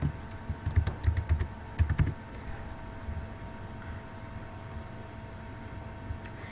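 Keys on a computer keyboard clatter in two short quick bursts as an address is typed into an MS Access hospital database form, close and fairly quiet, followed by a low steady room hum with a faint extra tap near the end.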